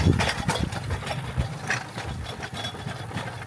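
Engine noise from a moving train, a steady low rumble mixed with mechanical clatter and rattling, heard from on board throughout.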